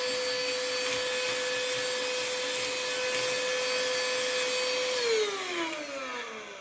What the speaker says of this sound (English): Nothing miss from this cordless vacuum cleaner.